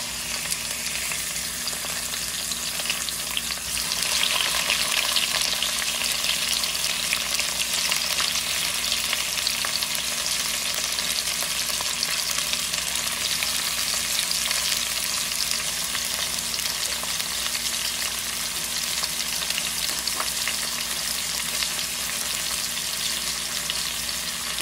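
Shrimp fries in a hot pan for Ilocano miki noodles, giving a loud, continuous sizzle with steady crackling throughout and no voices.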